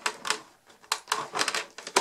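A Cuttlebug die-cutting machine presses bookmark dies through thin felt-backed leather, giving a run of close, dry clicking and crunching bursts with short pauses between them, and no talking.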